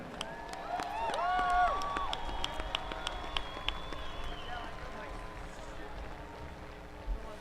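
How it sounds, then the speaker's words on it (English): Applause and scattered clapping from a crowd, fairly steady throughout, with some whistling and tonal chirps early on and a public-address voice mixed in. "How about a round of applause for Rich Hanna?"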